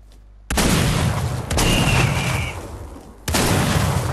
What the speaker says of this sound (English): I got 6 nades ready to go.